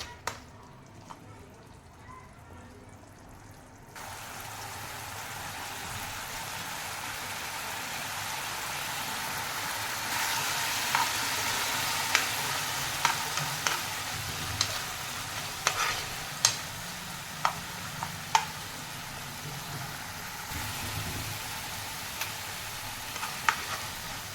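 Masala frying and being stirred in oil in a pan for chili in yogurt, a steady sizzle that grows louder partway through, with sharp spoon scrapes and taps against the pan.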